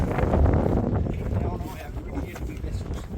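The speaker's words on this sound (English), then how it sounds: "Oh, it's getting windy." Loud, gusty wind roaring across the microphone on a sailing boat off Antigua, with muffled speech partly buried beneath it.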